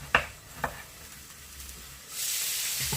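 Meatballs fried in a pan for a gravy dish, flipped over: a couple of soft clatters of turning, then a steady bright sizzle rising and holding close by, with no talking.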